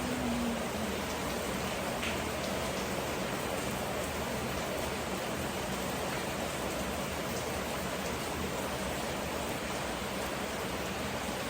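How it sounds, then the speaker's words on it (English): Steady rain falls outside, making a dense, even hiss of drops on surfaces that stays constant and fairly loud throughout with no pauses. "now the rain has helped me, so I don't need to put any music in the background"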